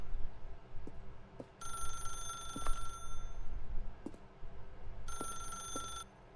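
A telephone rings in the video game The Stanley Parable, two bursts of bright electronic trilling separated by a pause, fairly close, with faint clicks and low room hum underneath and no speech.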